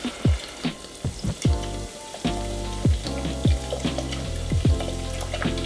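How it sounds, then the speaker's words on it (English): Beer and brisket mixture bubbles in a pan, with a steady simmering hiss under a series of loud popping bubbles and soft splats, close up. "We're just gonna go ahead and let that simmer for a little bit."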